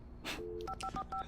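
Telephone dialing tones sound from a phone in the video game Alan Wake: a quick breathy noise, then a short run of crisp keypad beeps in uneven rhythm, quiet and close.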